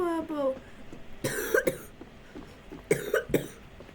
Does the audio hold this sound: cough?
yes